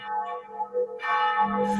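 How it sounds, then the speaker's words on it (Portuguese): Resonant cathedral bell tones ring on, a new strike swelling in partway through over the lingering hum of earlier peals. "Quer esperar o sino?"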